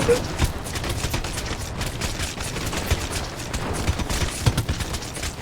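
Rapid gunfire in GTA during a flag-capture game, a steady stream of quick shots under constant busy game noise and excited talk.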